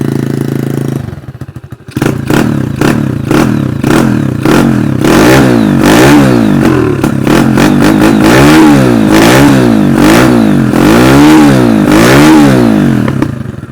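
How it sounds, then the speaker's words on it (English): A Honda ST140 motorcycle with a loud exhaust pipe catches after a brief cough and then revs repeatedly, its close, loud engine note climbing and falling in quick rhythmic bursts. "That's a fast revving 140."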